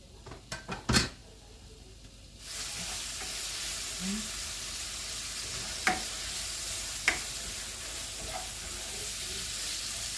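Oil stir-frying in a pan, opening with a few sharp clanks of cookware, then a steady hissing sizzle with two brief utensil knocks against the pan.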